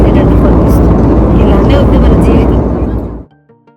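Inside the cabin of an IndiGo airplane descending to land, a loud, steady roar of engine and wind fills the space, then drops away sharply near the end and leaves a faint quiet hum.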